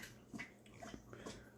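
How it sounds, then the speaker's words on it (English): A dog laps up drinking water nearby, a faint, irregular series of soft wet laps against quiet room tone, with no one speaking. "if you hear the water being lapped up in the background"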